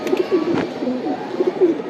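A tournament racing pigeon gives soft, low repeated coos in short rolling phrases, heard close and clear over a quiet room with no talking.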